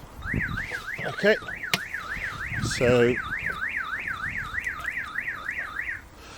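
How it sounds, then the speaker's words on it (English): A custom car alarm on a BMW 850i wails loudly in a fast, regular up-and-down warble, with a few clunks and a brief spoken remark early on before it cuts off. "the car does have its own custom car alarm"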